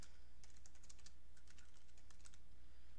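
Quiet tapping of keys on a computer keyboard, a scattered run of soft clicks with pauses, ending in one sharper click, set against a low steady hum.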